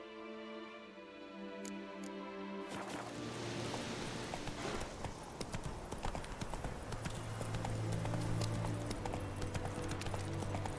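Roach, a horse in a video game, breaks into a gallop after a calmer opening, hooves drumming rapidly and steadily up close, growing louder toward the end.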